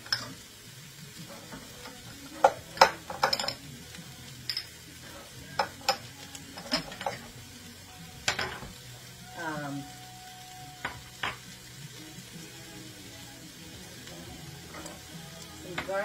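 Ground beef and onions fry together in a pan for hamburger soup, a steady sizzle broken by scraping stirs and clinks of a utensil against the pan.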